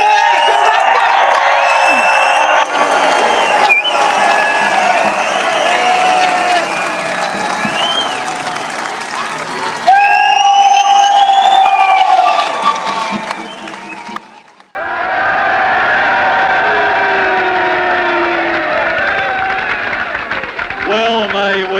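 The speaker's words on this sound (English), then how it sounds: "Is that really the best applause that we can give this amazing man? Let's hear it." A large crowd at a rally inside Parliament House gives sustained loud applause mixed with cheers and whoops. The sound stays dense and continuous, breaks briefly, then surges back at full strength.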